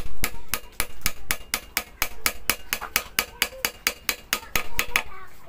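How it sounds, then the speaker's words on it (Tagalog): Rapid, steady hammer blows on metal while repairing an angle grinder, around two dozen sharp ringing strikes in quick even rhythm, loud and close, with no talking. "Then, paluin natin ang martilyo."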